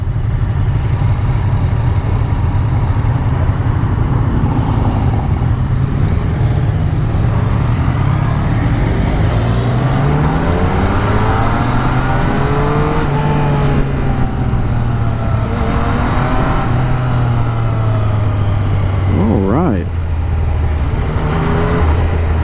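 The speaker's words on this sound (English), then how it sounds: "Engine is pretty smooth." A Yamaha FZ-09 motorcycle ridden in its most aggressive A riding mode, the engine droning loudly as it rises and falls through the gears with wind rush, heard up close and continuously without talk.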